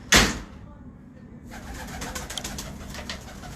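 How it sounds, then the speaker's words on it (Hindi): Breeder pigeons in a small caged breeding setup coo softly nearby, following a sharp loud knock at the start, with low murmuring background noise throughout. "लो जी दोस्तों ये हैं चंद ब्रीडर कबूतर।"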